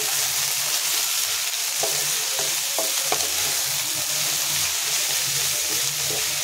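Leafy greens frying in a hot pan and being stirred, a steady close sizzle with a few scraping stir strokes, no talking.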